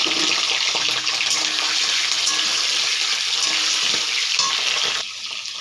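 Prawns frying in hot mustard oil give a loud, steady, close sizzle that runs unbroken throughout, dropping slightly near the end; no talking.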